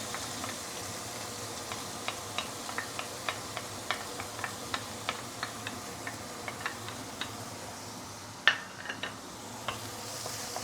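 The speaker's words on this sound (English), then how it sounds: "Saute this a bit, yeah, before we continue" Minced herbs and garlic sauté in hot oil in a wok for fried glass noodles, a faint steady sizzle with regular light ticking pops and one sharper knock near the end.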